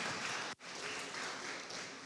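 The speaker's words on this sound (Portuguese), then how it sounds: "Silas, vamos dar uma salva de palmas" A church congregation claps steadily in welcome for a visitor, a dense wash of applause that briefly dips near the start before carrying on evenly.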